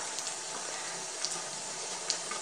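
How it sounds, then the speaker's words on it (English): Tap water runs steadily from a faucet into a sink while a makeup brush is wet under the stream, a constant broadband splashing rush with a few faint drip accents and no talk. "So I just wet the brush a little bit"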